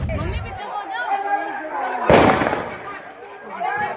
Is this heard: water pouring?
no